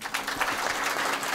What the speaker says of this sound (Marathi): आपण सर्व भजनी मंडळाच्या नावाने टाळ्या वाजवा